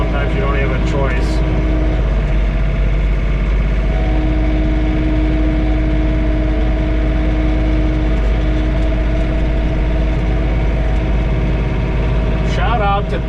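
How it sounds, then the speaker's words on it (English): Steady engine drone of a John Deere 3046R compact tractor snow blowing inside its enclosed cab during a blizzard, running continuously at close range with someone talking over it. "Now I'm blowing into the wind."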